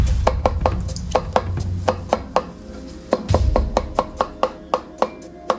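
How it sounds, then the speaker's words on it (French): Onion and a second tea ingredient chopped with a knife on a board: a steady series of sharp, close chops at an irregular pace, loud and distinct with no talk. "Vous allez découper en plusieurs morceaux ou écraser les 2 ingrédients."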